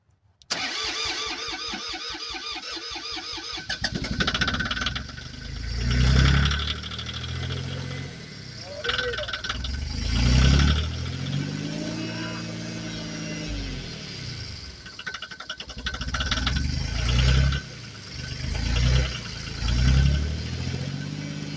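A John Deere tractor engine cold-starts during a snowstorm: a cranking whir, then the engine catches and revs in several surging bursts before settling toward idle, close and fairly loud.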